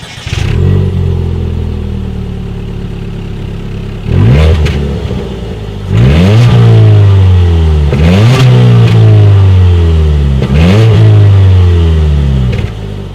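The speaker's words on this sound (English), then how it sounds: "As always, here is that exhaust clip" Engine revving through the single exhaust of a 2019 Ford Fiesta, several loud blips rising and falling in pitch, close and alone with no talking.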